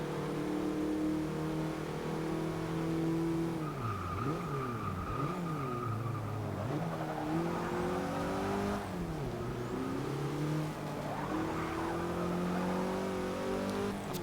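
A Porsche 944 Turbo race car in Forza Motorsport 6 revs hard through rising and falling gear changes, its engine droning loud and continuous, with tires squealing through corners.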